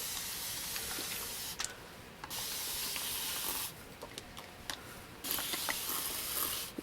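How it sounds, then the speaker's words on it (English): Several short hissing mist bursts from a handheld spray bottle dampening dry curly hair, each lasting one to two seconds with pauses between, close and fairly quiet. "I always need like a spray bottle"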